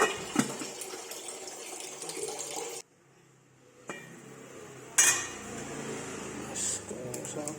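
Metal lid placed onto a pot of simmering fish soup, a few clanks and clatters near the start and middle amid kitchen bubbling noise, with a brief quiet gap between.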